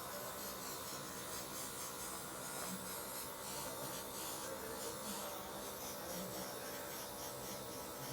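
Airbrush spraying body paint at low pressure, around 15 PSI, for light face contouring: a steady, soft airy hiss that continues without a break throughout, close and fairly quiet.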